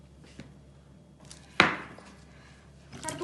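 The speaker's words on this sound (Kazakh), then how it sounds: "Картопты да ірі қылып тураймыз." A knife cutting potatoes into large chunks, one sharp loud chop standing out from a few faint taps in an otherwise quiet kitchen.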